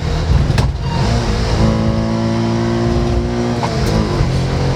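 A Bajaj Qute quadricycle's 220 cc single-cylinder motorcycle engine running at a steady idle hum, close and continuous, with a couple of brief clicks.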